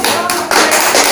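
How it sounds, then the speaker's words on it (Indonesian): Classroom applause rises for a student group after their presentation in a micro-teaching practice session, a dense, loud wash of many hands clapping together that continues steadily and grows fuller partway through. "Tepuk tangan untuk kelompok"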